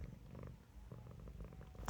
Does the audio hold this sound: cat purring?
yes